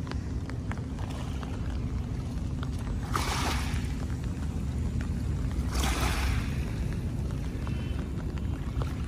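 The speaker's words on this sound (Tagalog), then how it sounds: "sarap pakinggan ng hampas ng alon at nakaka-relax pakinggan yung hampas ng alon." Waves washing onto the Manila Bay shore, a steady low surf roar with two brief louder splashing surges about three seconds apart, no voices.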